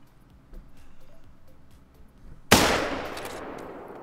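A single sharp, loud rifle shot cracks out in the hunting game theHunter: Call of the Wild, its echo decaying slowly over quiet outdoor ambience that precedes it.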